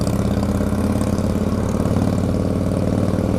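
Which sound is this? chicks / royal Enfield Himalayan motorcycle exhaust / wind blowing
royal Enfield Himalayan motorcycle exhaust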